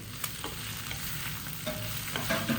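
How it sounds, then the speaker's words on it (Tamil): Okra being stirred and tossed in a hot pan for an okra yogurt gravy, a steady sizzle of frying with soft scraping strokes of the spoon throughout, close and fairly loud, no voices. "ஸோ இதையும் ஒரு ரெண்டு பரட்டு பரட்டிக்கோங்க"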